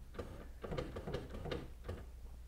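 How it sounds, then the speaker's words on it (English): An HP printer running its startup routine after being powered on, with a steady mechanical hum and repeated rhythmic clicks and whirs of moving parts, close and moderately quiet. "now the printer is setting itself up"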